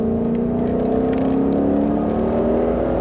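A Mustang Shelby GT500 on a race track, its front-mounted engine droning loud and steady under throttle, with rising harmonic tones as revs climb through a gear, no voices over it.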